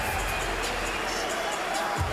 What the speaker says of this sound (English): Slovenia fans applauding Chanchar,